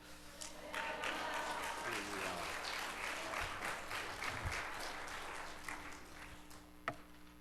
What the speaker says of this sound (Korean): 뜨거운 박수로 맞이하시겠습니다.